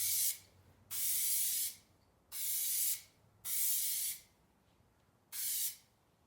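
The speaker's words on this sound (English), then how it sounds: "Now we're going to add our primer. And I am going to apply it very lightly, 2, 3, maybe 4 coats" Primer being sprayed onto a Honda Accord project car from an aerosol can in five separate hissing bursts of about a second each, close by and steady, with short quiet pauses between passes.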